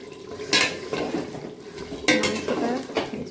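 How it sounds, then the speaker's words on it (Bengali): Mutton and potatoes are stirred and sautéed in a pan, with a spatula scraping and clanking against the metal in several sharp bursts over a soft background sizzle, heard close by. "মাংসটা এই যে হচ্ছে, কষানো চলছে"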